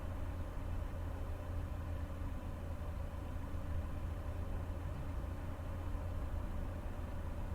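A mail truck engine idles in the video game Lake, a steady, low, even rumble that holds without change throughout at a moderate, close level.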